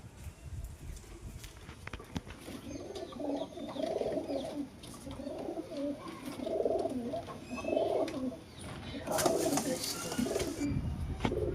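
Pigeons coo softly in repeated rolling phrases at a home loft, with faint background rustles and no talking.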